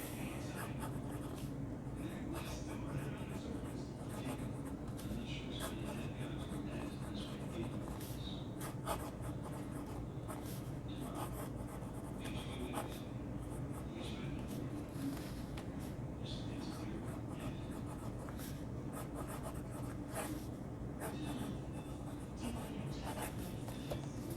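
Wingsung 699 fountain pen with a smooth, slightly bouncy steel nib and wet ink flow writing on paper, a steady soft scratching and rubbing that runs continuously at close range.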